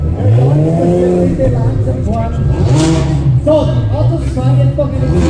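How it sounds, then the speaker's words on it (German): Sports cars running a second lap at an international sports car festival in Kitzbühel, their engines droning steadily beneath a loud announcer voice over a public address system. "die Autos fahren jetzt noch eine zweite Runde"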